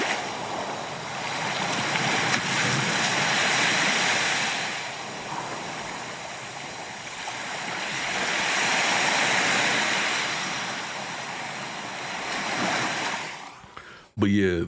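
Steady broadband wash of ocean surf from a sleep sound machine, rising and falling in slow, swelling cycles, fairly loud and continuous, cutting off abruptly near the end.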